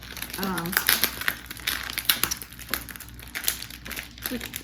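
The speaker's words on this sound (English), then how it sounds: "a Ziploc bag. If I can get it open." Someone struggles to open the plastic Ziploc bag that holds a king cake mix. It gives bursts of crisp crinkling and rustling up close while a person talks over it.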